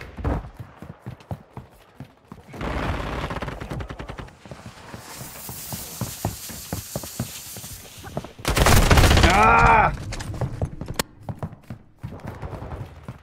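Gunfire in Call of Duty: scattered shots and rattling bursts of fire with a louder dense volley near the end, mixed with other in-game noises and no talking.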